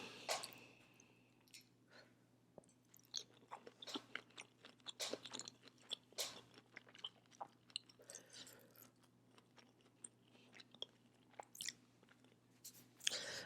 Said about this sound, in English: I'm trying real hard not to chew with my mouth open, y'all.